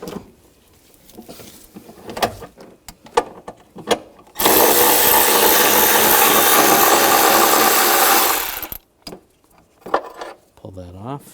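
A 13mm socket on a ratchet or driver spins loose a battery bracket bolt on a 2007-2013 BMW X5, a loud steady whirring burst lasting about four seconds between short clicks and handling noises.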